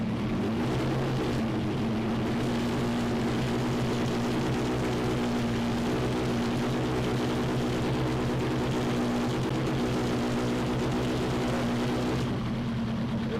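A Suzuki Hayabusa GSXR1300 motorcycle engine runs during servicing, a loud, steady droning hum that holds nearly constant for over twelve seconds and shifts slightly near the end.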